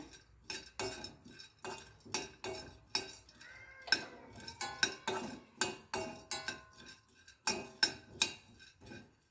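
Roasted gram dry-roasting in a pan, a spoon stirring and scraping in a steady rhythm of close, bright metallic clinks and scuffs, with no voices.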